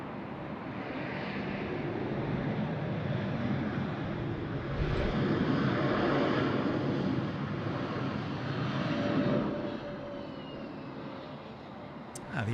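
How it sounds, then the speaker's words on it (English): An Airbus A321neo airliner landing at Sydney Airport, a broad rumbling roar that builds and lingers at moderate distance before easing off, with people talking faintly beneath it. "The A321, there we go,"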